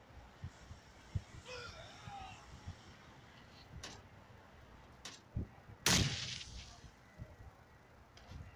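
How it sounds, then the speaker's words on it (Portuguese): Gunshots sound as scattered sharp, faint cracks, with one noticeably louder bang partway through, over a quiet background with faint voices. "Cara, foi tiro."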